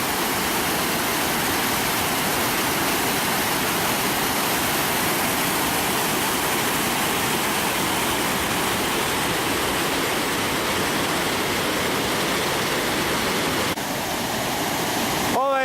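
Waterfalls on the Rječina river roaring as a dense, loud, unbroken rush of water filling the whole clip, with a brief shift near the end.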